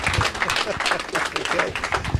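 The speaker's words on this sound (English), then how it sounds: "I wish you'd give our Vice President, Donna Potts, a little round of applause on her committee and the food" An open house audience gives a round of applause, many hands clapping in a lively, uneven patter, fairly close and filling the room, with a murmur of voices underneath.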